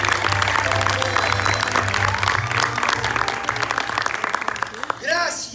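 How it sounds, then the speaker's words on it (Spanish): Audience applause at a radio theatre stage show in a neighbourhood auditorium in Buenos Aires, steady and warm, fading as a voice begins speaking near the end. "Gracias, gracias y siempre gracias por estos aplausos sinceros y espontáneos."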